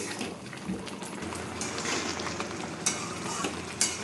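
Carrot mixture with milk stirred in a pan on the stove, a continuous close scraping and sizzling texture with a couple of sharper clicks of the spoon against the pan, no talking.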